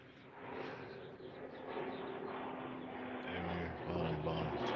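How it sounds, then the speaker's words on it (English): A small propeller airplane drones overhead at a moderate distance, its steady engine hum gradually growing louder and holding through the clip. "There's your airplane."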